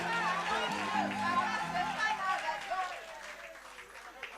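A church congregation cheers and claps in a lively mixed roar of voices and applause that fades toward the end, with talk and shouting mixed in.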